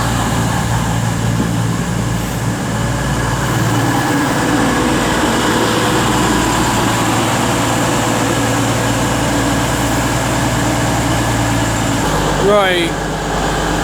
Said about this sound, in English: 221112's in the way of this Pendolino that's passing through